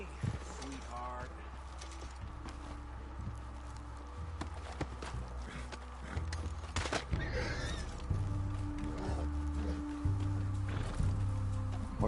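In the video game Red Dead Redemption 2, hooves clip-clop at a steady gallop beneath a low rumbling backdrop, with a horse whinnying briefly; no one speaks.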